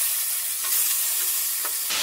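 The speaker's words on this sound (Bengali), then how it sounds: "মাথাটা আমি ভালো করে ভেজে নেব।" A rohu fish head frying in hot oil in a pan, a loud dense hiss and crackle that runs continuously, close and alone with a few brief stirring bursts.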